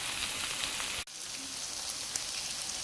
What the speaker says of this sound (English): Now it's time to add these steamed potato in here. We're gonna give that a toss.